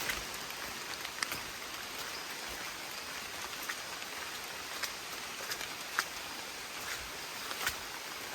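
Steady rain falls through a rainforest as a dense, even hiss with scattered drop patters, fairly faint and unbroken throughout, with no voices.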